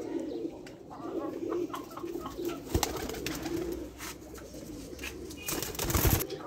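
Baby pigeons in Lahore cooing softly and steadily, with scattered chirps and faint wingbeats over a constant background hum, while distant voices murmur underneath.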